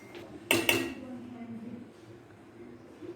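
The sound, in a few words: spoon stirring melting butter in a pan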